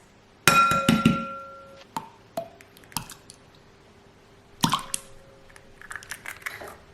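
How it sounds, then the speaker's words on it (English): Eggs cracked into buttermilk batter with hot sauce, mixed for buffalo chicken bites: a sharp crack and wet squish near the start, then scattered small clicks and taps, and a second crack with a drip later, all close with no talk. "Crack in some eggs."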